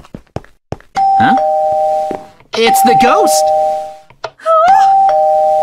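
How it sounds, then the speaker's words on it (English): A doorbell in the Minecraft video game rings repeatedly in sustained chimes, loud and close, with frightened voices shouting over and between the rings. "It keeps ringing the doorbell! It won't stop!"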